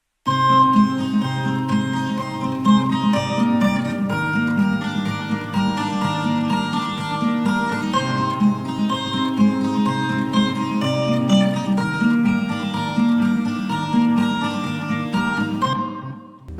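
Looped guitar phrase with a counter melody layered on top, washed in reverb and panned partly to the left, playing steadily and fully for about sixteen seconds with no voices before cutting off at the end.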